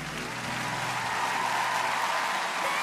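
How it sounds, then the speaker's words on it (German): A studio audience at a televised children's singing competition gives a sustained, full round of applause, a dense continuous wash of clapping with faint cheering, steady and fairly loud throughout. "Ladies and Gentlemen, einen großen Applaus für Lea."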